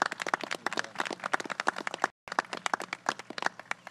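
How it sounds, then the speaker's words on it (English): An outdoor audience at a bridge implosion event in Ulster County gives a steady round of applause, with many hands clapping in quick, even bursts near the listener. The applause cuts out for a moment partway through. "Let's give one more round of applause"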